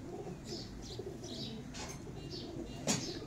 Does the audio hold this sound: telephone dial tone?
no